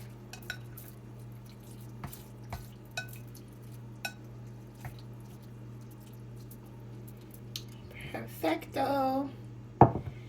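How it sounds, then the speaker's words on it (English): Black rice ramen noodles mixed with chopsticks in a bowl, light scattered clicks and wet squishing taps over quiet hum, followed by brief speech near the end. "And I'm gonna take my chopsticks"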